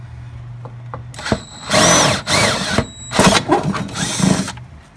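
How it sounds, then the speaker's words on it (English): A power drill whines in several bursts as it bores holes into a Polaris XCR 440 snowmobile's rear suspension, close up, with short pauses between runs. "the first hole is drilled"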